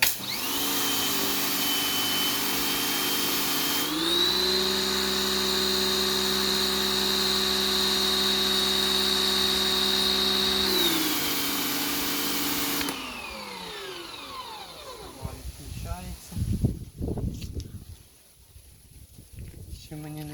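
A STIHL RE 80 X compact pressure washer starting for the first time whines loudly with a steady motor hum, rising in pitch, running evenly, then dropping and winding down before intermittent bursts and a person speaking.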